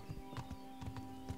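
Horse hooves clop at a walk in the medieval game Kingdom Come: Deliverance, making soft, evenly spaced thuds over a steady tonal ambient hum.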